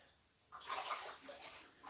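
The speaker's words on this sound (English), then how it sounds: "So I was filling that up with water." Tap water pours into a cup for tea, a short, close running stream that starts abruptly after a quiet moment and holds steady.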